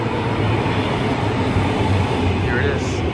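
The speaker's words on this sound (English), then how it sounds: "here comes the train" A train rumbles into a station in Finland with a low, continuous roar and rushing air, loud and close, a faint squeal rising near the end.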